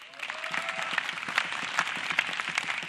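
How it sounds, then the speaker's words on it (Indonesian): A television comedy stand-up audience applauds a comedian with a sustained burst of crowd clapping and a few scattered cheers, heard alone at moderate distance. "Tepuk tangan buat gua boleh dong"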